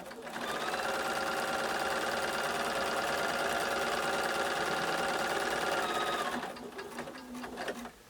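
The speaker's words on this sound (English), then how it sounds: "Just line it up with the edge of your 1/4 inch foot and sew." A sewing machine with a 1/4 inch foot stitches fabric strips for a quilt kit, giving a steady, loud, fast whirring hum that runs for several seconds and then stops abruptly, followed by a few softer mechanical clicks.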